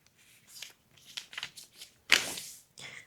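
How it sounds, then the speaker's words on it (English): Half a sheet of newspaper being cut and folded in half to form seedling pots: crisp rustles and crinkles in short bursts, with one louder crackle, close by and without talk. "So I just cut them down the center, fold them in half."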